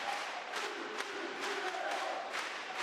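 Volleyball arena crowd in Lüneburg, almost full with 3,200 people at a CEV Champions League match between SVG Lüneburg and Sporting CP Lisboa: a steady, dense roar of murmuring and calling voices with a few brief swells, continuous throughout.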